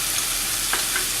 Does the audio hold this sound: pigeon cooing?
no